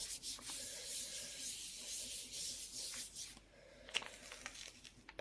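A magazine page pressed face down on a painted Gelli plate is rubbed fairly firmly by hand, giving a continuous soft papery swishing and scraping that fades briefly, then resumes with a few sharper strokes.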